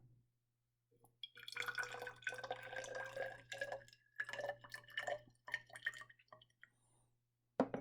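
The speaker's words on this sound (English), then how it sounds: "I have to add about 20 milliliters of water." Water poured into a flask during a vinegar titration lab, a close splashing and dripping stream running for several seconds with brief pauses, over a low steady hum.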